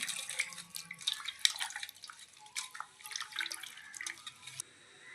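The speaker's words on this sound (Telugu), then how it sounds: "చింతపండు అయితే పోసేస్తున్నాను" Tamarind water is poured into a fish curry in uneven splashing, dripping bursts, close and moderately quiet, that trail off near the end without any talking.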